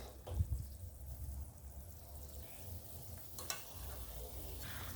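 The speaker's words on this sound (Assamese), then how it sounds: "এতিয়া মই ফ্ৰাই কৰি থোৱা বুটৰ দালিৰ বৰাখিনি এড কৰিছোঁ চব্জিখিনিত" Fried chickpea-lentil fritters dropped into a simmering potato curry, giving a soft, faint bubbling sizzle with a small splash at the start and quiet stirring clinks, no talking.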